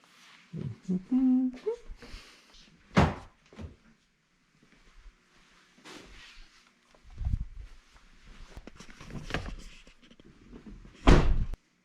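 A Ford Transit Connect van door is opened and closed as someone gets into the vehicle, with several distinct thumps and clunks spread over the clip, the loudest slam near the end, plus some background talk.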